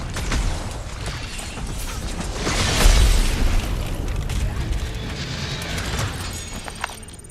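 Bombs burst in Marvel's Guardians of the Galaxy on PC, a loud boom swelling midway amid rumbling combat noise and mechanical clatter, with a voice speaking over it.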